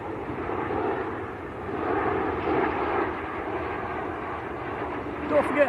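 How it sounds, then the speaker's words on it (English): Boeing 737-800 on short final to land at Manchester Airport, a steady broadband engine roar holding throughout at moderate distance, with voices chatting faintly underneath. "Jet 2 on short finals,"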